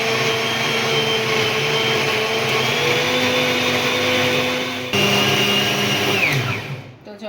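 Mixer grinder whirring steadily as it blends bottle gourd, garlic and green chillies into a paste, a loud continuous motor whine with a brief dip and restart near the end before it winds down.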